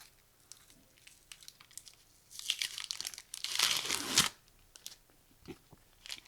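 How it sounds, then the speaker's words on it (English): A 1997 Ultra Figus rock card pack is torn open: faint crinkling handling gives way to a sharp, close foil-wrapper rip lasting about two seconds, then quiet rustles. "Let me tear that off."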